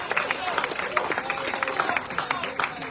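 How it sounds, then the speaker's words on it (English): Audience applause at the official launch of a reggae festival, a steady wash of clapping and crowd noise with scattered sharp claps, moderately loud and continuous throughout, with some voices mixed in. "let's give her another round of applause"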